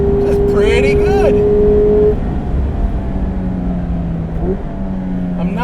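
A 2017 Mazda MX5 Miata RF on a race track holds fourth gear, its engine note climbing and then settling into a steady, loud drone, with someone talking over it throughout.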